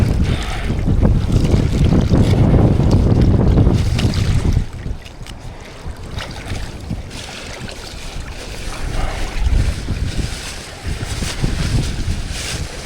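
Strong wind buffets the microphone with heavy, rumbling gusts, mixed with splashing water and the rush of a boat moving over waves, during a 16 km downwind hydrofoil run on a Code Foil 810X.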